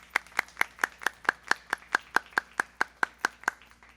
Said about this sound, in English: So can we please give them a huge round of applause?